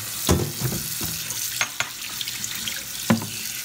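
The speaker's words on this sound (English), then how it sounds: "I'm going to rinse it under some cold water." Short ribs being rinsed under cold tap water in a kitchen strainer, heard as a quiet, irregular series of splashes and clattering knocks from the meat and strainer, with no voices.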